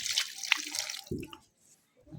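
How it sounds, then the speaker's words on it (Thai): Water splashes and gurgles in short bursts as it is poured over cassava for washing, close and moderately loud, followed by a quiet pause and a brief further splash. "จะใส่น้ำพี่น้อง"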